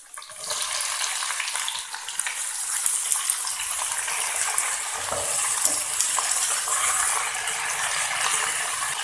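Garlic, whole green chillies and tomatoes fry in a pan for tomato chutney, a steady, close hissing sizzle running throughout with occasional stirring scrapes and clicks, no voices.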